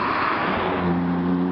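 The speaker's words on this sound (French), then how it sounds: "Il y a toujours des voitures pour casser les pieds." A car drives along a town street near a school in Gien, its engine rising as it nears, steady broadband road noise with a low tonal hum, fairly loud and close, no voices.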